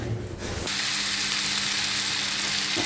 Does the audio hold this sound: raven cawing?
no